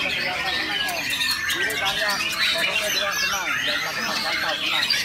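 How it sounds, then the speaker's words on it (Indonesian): Several birds chirp and call continuously, loud and close, in a busy bird-keeping setting with people talking over them throughout. "burung udah kelihatan"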